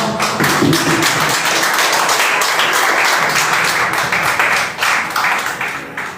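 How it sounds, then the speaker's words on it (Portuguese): A congregation in church claps together in sustained, dense applause, loud and close, easing slightly toward the end. "Uma salva de palmas."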